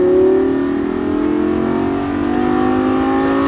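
A race car engine revs and pulls hard, a loud close drone climbing in pitch as it accelerates, with no talking.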